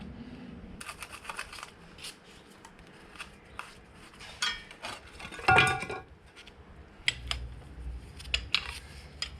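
A small metal cover is removed in front of the flywheel of a Land Cruiser FJ45: scattered metallic clinks, scrapes and taps of tools and parts, close and intermittent, with quiet gaps between.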